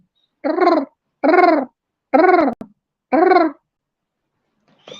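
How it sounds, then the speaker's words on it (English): A white kite gives four loud, harsh, raspy calls in a slow, evenly spaced series, close by, with a fainter fifth call starting at the end. "That's the sound of that bird right there, that white kite bird."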